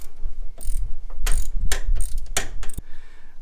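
A ratchet on a long extension loosens a 15 mm nut on the brake master cylinder of a 1997 Camaro, giving several sharp, close clicking bursts in an uneven rhythm with short pauses between them.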